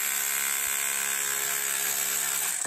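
A hammer drill excavating rock at a gold mining site, a loud continuous high-pitched whine with a steady buzzing hammer rattle, close and uninterrupted until it tapers at the end.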